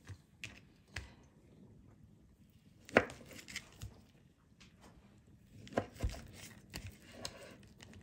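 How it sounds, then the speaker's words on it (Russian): A knife chops sausage finely on a board, producing irregular sharp taps and knocks with short pauses between cuts, close and fairly quiet. "Теперь нам надо колбаску меленько нарезать."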